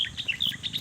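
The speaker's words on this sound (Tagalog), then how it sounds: "Oh, may ibon pa." Quick, high bird calls repeat in a brief burst over faint rustling, close and fairly clear.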